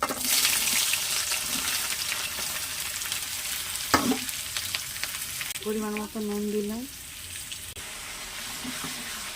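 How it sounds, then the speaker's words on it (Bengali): Chopped onions fry and sizzle in hot oil in a pan, a loud steady hiss with brief stirring scrapes, while a voice speaks briefly over the cooking. "পেঁয়াজটা হালকা হালকা ভাজা ভাজা হয়ে যাচ্ছে"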